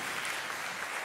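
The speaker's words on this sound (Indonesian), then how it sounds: "Tepuk tangan yang meriah bagi Tuhan Yesus." Church congregation applauding during a Pentecostal service in Jakarta, a dense, continuous burst of clapping filling the brief moment with no voices over it.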